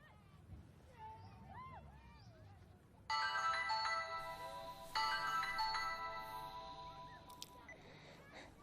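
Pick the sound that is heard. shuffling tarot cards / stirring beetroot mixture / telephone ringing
telephone ringing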